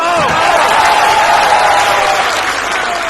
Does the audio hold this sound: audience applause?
yes